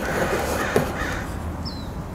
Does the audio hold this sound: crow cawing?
yes